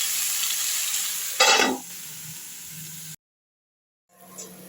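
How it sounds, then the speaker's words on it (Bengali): Pumpkin and half-fried potato sizzling in a pan, a steady hiss with a brief louder burst of stirring, then silence before the frying resumes more softly. "আলুটা হাফ ভেজে নিয়ে আমি কুমড়োটা দিলাম, যাতে বাকি আলুটা কুমড়োর সঙ্গে ভাজা ভাজা হয়ে যায়।"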